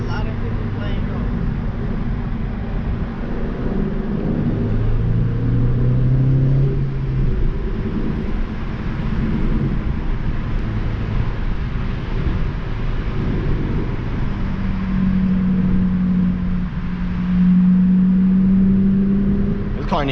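A Honda Civic Si driving on backroads, its engine droning steadily inside the cabin with rising and falling revs, while a person talks over it.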